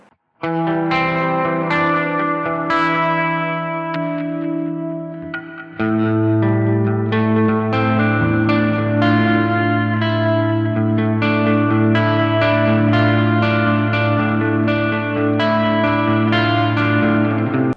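Electric guitar with P90 pickups plays chords that sound thick and washed in shimmering ambient effects, sustaining with echo and reverb. Lower, fuller chords take over partway through.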